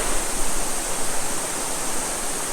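Rushing water at a campsite near Havasu Falls, a loud, steady broadband roar of flowing stream or falls filling the whole clip without pause or voices.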